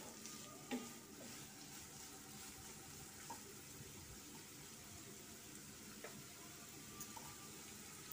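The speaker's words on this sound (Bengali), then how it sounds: "লবণ দিয়ে আবার একটু নেড়ে নিচ্ছি" Vegetables fry in a pan with salt while being stirred, a low continuous sizzle with occasional scraping and clinking knocks, close and fairly quiet, no talking.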